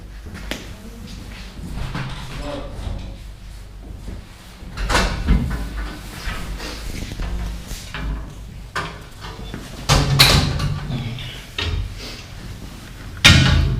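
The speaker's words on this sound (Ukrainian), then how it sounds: "Ви закрили двері. Відкрийте і закрийте." A door is opened and shut several times, with knocks, sliding scrapes and thuds spread across the clip at close range.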